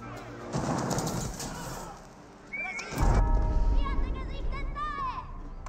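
Horses of horse archers in an Age of Empires 4 match neigh and whinny in several rising calls, mixed with hoof clatter and battle noise under a narrating voice.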